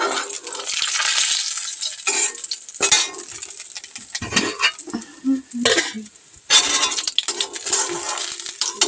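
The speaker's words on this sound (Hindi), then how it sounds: "सब्जी उधर छनका दिए हैं और आंच को कम कर दिए हैं, तो पक रहा है" Soybean chunk vegetable curry sizzles and fries in a pan over a lowered flame, with stirring, clinking utensil and pot sounds breaking through the steady crackle.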